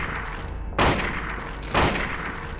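Two heavy gunshots in the Silent Hill survival horror game, booming about a second apart over a constant low ambient drone.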